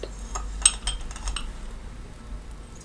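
A spoon scoops sugar for coffee, a few light metallic clinks and scrapes against a cup or jar, close and brief, then quieting.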